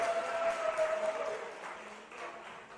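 Quiet applause from an audience in a hall, a soft, even patter of many hands that gradually thins out over a few seconds.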